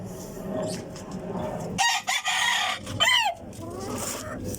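Native chickens on a chicken farm: a rooster gives loud, wavering crows in the middle of the stretch over a background of clucking and general farmyard noise, with a voice briefly heard.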